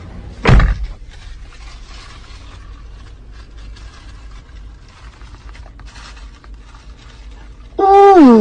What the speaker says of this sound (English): Man, shut the door, man.